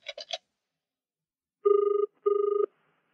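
Two bursts of a telephone ringing, each a steady trilling tone lasting under half a second, loud and close, following a few brief button-press tones at the start.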